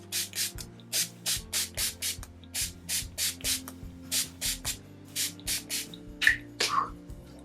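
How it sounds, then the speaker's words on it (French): A bottle of NYX mattifying makeup setting spray is pumped in quick, evenly spaced spritzes, about a dozen short hissing bursts heard close and alone in a quiet room. "Alors le setting spray que j'utilise en ce moment c'est celui de chez NYX et c'est celui qui matifie."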